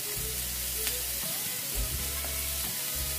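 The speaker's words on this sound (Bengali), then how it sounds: "একটু ভেজে দেবো। এবারে দিয়ে দেবো আন্দাজ মতো কাঁচা লঙ্কা।" Spice paste and green chillies fry in a pan, giving a continuous close sizzle with a low hum beneath and a few sharp clinks of stirring.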